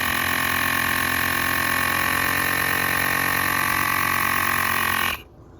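Air compressor running steadily while pumping up its tank pressure, a loud continuous motor drone with dense harmonic hum that cuts off abruptly near the end, leaving faint background.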